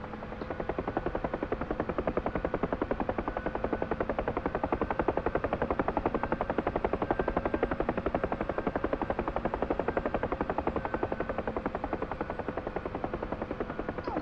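A Huey gunship helicopter in a flight-sim game gives a steady, rapid rotor thump with a droning engine whine, constant and close throughout with no breaks.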